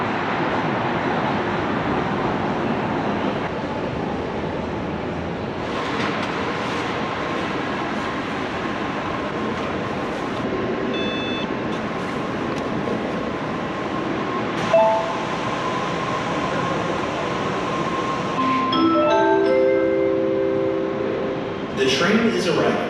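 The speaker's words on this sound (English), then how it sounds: "The train is arriving." A train pulls into a station in Seattle: a steady low rumble and rolling hum that builds, with brake squeals and tonal whines toward the end, under background chatter.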